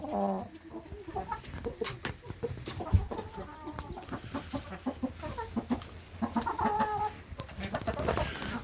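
Rooster and hens clucking close by in a backyard flock, a steady run of short clucks and squawks with a few sharp thumps, fairly quiet and without speech.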